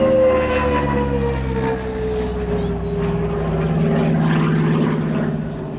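Vintage Australian propeller fighter, a Wirraway variant, flying at the Avalon Airshow, a loud continuous engine drone whose pitch slides gradually downward as it passes, steady and close throughout.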